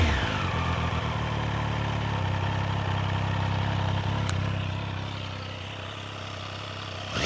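A Triumph Street Triple RS motorcycle engine idles through its stock exhaust with a deep, loud, throaty rumble, steady and close, settling slightly quieter toward the end.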